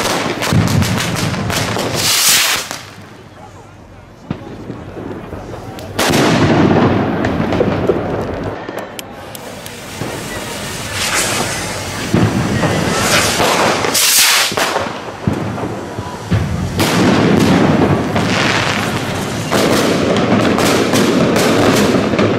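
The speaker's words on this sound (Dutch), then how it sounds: "Wat een beetje Spaans vuurwerk leuk." Spanish fireworks go off in loud bursts of booming blasts and crackling. Several separate volleys come with short quieter gaps between them, and the noise is close and powerful.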